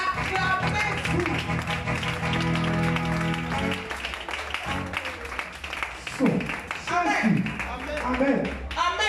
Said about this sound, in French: Acclamez-vous.